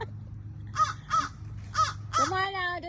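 An agitated crow perched up in a tree caws four times in quick succession, loud and harsh, at a golden retriever trying to climb for squirrels, with a person talking briefly over the last call.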